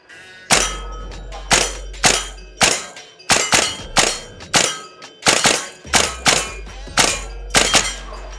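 Eleven sharp shots from a VFC L403A1 airsoft rifle ring out at a steady rhythm, roughly one per second, each a loud close crack with a metallic clang and brief ring-out, with no talking.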